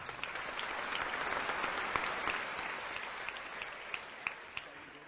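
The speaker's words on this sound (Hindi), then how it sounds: "चलो अब धर्मेंद्र भैया के लिए पुनः तालियां" Devotees at a live Shrimad Bhagavat Katha religious gathering clap together in a continuous, moderately soft round of applause, with a few sharper individual claps standing out toward the end.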